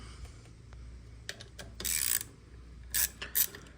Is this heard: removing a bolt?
yes